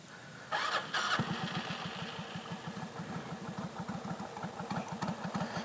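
A 1996 Suzuki Intruder VS1400 motorcycle with Jardine pipes cranks over with a brief starter whir, then catches and settles into a loud, close, deep, loping idle with a steady pulsing rumble.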